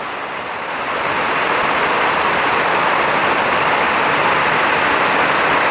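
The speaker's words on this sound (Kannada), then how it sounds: "ಇವಾಗ ಫುಲ್ ಕಂಟಿನ್ಯೂ ಮಳೆ ಆಗ್ತಾ ಇದೆ." Heavy continuous rain falling in Ankola with water running over the road, a dense, steady hiss that swells after the first second and then holds loud and unbroken, with no talking.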